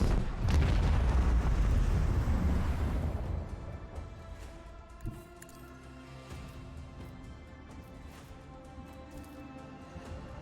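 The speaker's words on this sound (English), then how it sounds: "Engage the macro cannons." Heavy rumbling bursts of macro cannon fire in the video game Warhammer 40,000: Rogue Trader roll together for a few seconds, then fade into a quieter low hum with scattered distant thuds.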